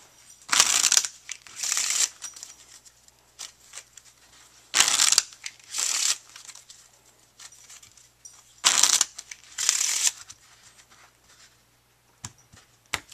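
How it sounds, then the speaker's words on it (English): Playing cards shuffled several times at a table before a card game, giving bursts of fluttering, riffling rattle separated by short pauses, close and fairly quiet, with no voices. "So we'll shuffle the cards a few times,"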